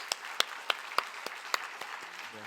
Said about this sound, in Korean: 우리 목사님 나오실 때 따뜻한 사랑의 마음을 담아서 우리 박수로 환영하겠습니다